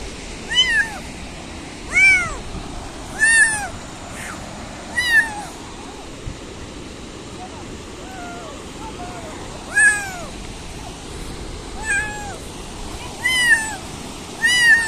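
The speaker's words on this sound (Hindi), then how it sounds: "तो अभी म्याऊं हमारे साथ चल रहा है।" A cat meows repeatedly, about nine plaintive calls at irregular intervals, close and clear over faint outdoor background noise.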